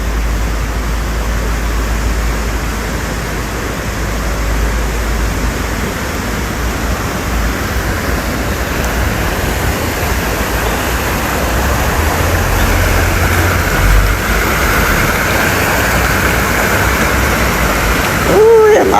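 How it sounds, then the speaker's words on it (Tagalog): Rushing floodwater current in Benguet after heavy rain, a steady, loud, broadband roar that runs unbroken throughout, close by and swelling slightly toward the end. "ang agos ng tubig"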